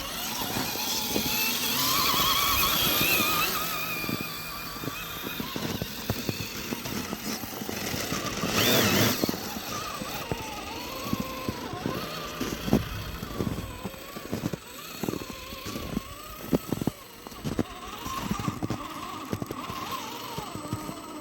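Axial SCX10.3 RC crawler with a brushed motor and ESC driving over terrain, a steady close whine with frequent surges and crunching bursts as it climbs and descends, with no talking.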